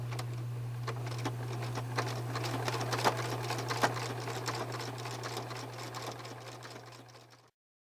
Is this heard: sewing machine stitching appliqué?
yes